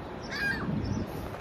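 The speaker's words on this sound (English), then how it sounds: "We're fighting against a seagull." A single harsh gull squawk rises briefly over steady outdoor background noise, close and fairly loud.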